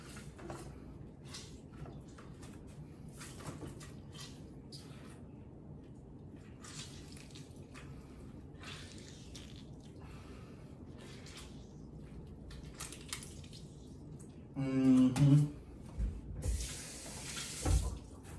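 A fresh lemon is squeezed by hand for a drink, and juice drips and splashes into a container. Quiet handling noises lead into louder wet squishing bursts near the end.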